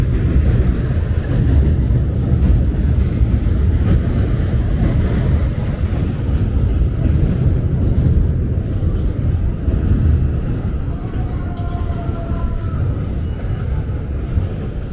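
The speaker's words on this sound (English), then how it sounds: "That's the Q train up there." Elevated Q subway train at Coney Island, Brooklyn, rumbling continuously overhead with a steady broad roar and faint metallic squeals near the end.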